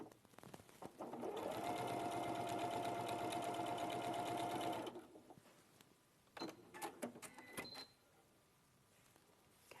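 A sewing machine stitching fabric pieces together runs in one steady, close whirring burst of rapid needle strokes for several seconds, then stops, followed by a few soft handling clicks and rustles.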